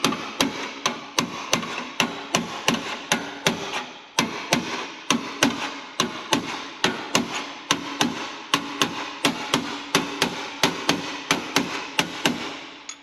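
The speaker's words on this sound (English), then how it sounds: "We can stretch it, very simple, with a chisel." A chisel is struck repeatedly with a hammer to stretch a steel patch panel for a Ford Transit van. The sharp metallic blows come at a steady, fast rhythm, loud and close, with no speech.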